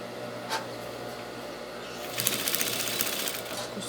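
A sewing machine stitching fabric, a quiet background hum at first, then a close run of rapid needle clatter in the second half.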